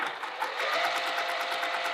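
A sewing machine bastes foam onto a small fabric wallet piece, a steady close whirring run of rapid stitches lasting the whole moment with no talking.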